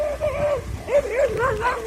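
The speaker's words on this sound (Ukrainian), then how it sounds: "собаки гасають." Dogs whimper and yip in short, rising and falling cries while running around, fairly close, with scuffling noise underneath.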